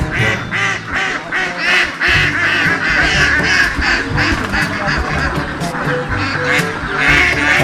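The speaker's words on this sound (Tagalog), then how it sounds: "Marunong ang itik." A flock of domestic ducks quacks continuously and loudly at close range on a Philippine farm, the dense overlapping calls running throughout.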